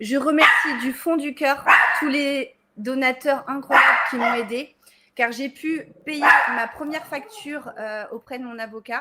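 A pet dog barks and yips in the background while someone speaks French close to the microphone, with the short barks partly buried beneath her steady talking.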